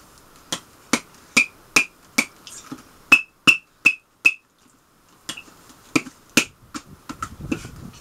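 A toy squeaky hammer strikes a plastic bottle in a quick series of sharp, crisp taps, each with a short squeak, around a dozen hits close up, a brief pause, then several more irregular taps.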